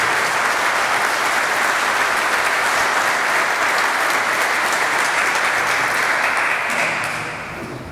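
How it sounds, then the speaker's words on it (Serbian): A large audience at a panel discussion in a law faculty hall gives a long, loud, sustained round of applause, dense and even before fading in the last second. "molim vas da ga pozdravite s jednim velikim aplauzom"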